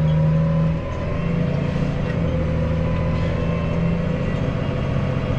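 A farm tractor pulls a plough into a field for the first pass of ploughing. Its engine holds a steady, loud, droning hum with a dip in pitch early on, and no voices are heard.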